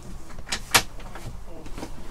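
A kitchen cupboard door in a motorhome at a motorhome show is opened, giving a few soft knocks and one sharp click close by against quiet background noise.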